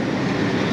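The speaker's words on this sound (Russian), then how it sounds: "Трамвайчики тут ездят." A tram passes along Zakharova Street in Krasnodar in June, producing a brief, loud, steady rumbling roll of wheels on rails close by, with no talking.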